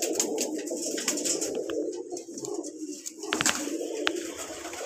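Long-boned pigeons kept for show and sale in Lahore coo repeatedly at close range, soft throaty calls rising over a murmur of background noise, with a few sharp clicks and flutters but no speech.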